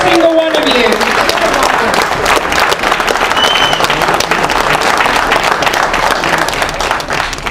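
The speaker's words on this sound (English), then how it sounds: "give yourselves a round of applause" Outdoor crowd at a Dudley march applauding steadily, a dense wash of many hands clapping with scattered cheers and voices mixed in, sustained and loud for several seconds.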